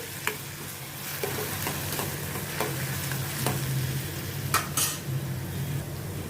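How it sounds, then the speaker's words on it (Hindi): Chopped onions sauté in a pan with a constant sizzle, punctuated by scattered metallic scrapes and taps of a stirring spoon, close up and without speech. "कटा हुआ प्याज डालती हूँ। इनको मैं थोड़ा गुलाबी होने तक मैं सौते करूँगी।"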